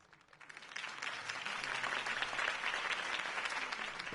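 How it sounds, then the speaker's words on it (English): Crowd applause swells after a campaign speech for Harvey Dent in a Batman cartoon, a dense, steady wash of many hands clapping that builds from a soft start and holds loud and even throughout. "If only Mr. Wayne, my campaign's largest backer, could have heard that applause"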